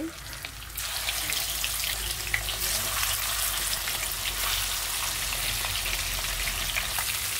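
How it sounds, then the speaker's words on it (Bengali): Pieces of katla fish drop into hot oil in a non-stick pan and set off a sudden loud sizzle that continues as a steady, close crackling fry. "তো তেলটা গরম হয়ে গেছে, আমি মাছগুলো দিয়ে দিচ্ছি।"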